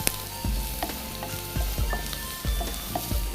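Onions frying in a pan for a chemmeen theeyal, a steady loud sizzle and crackle with repeated low thumps and stirring knocks, close up and with no voices.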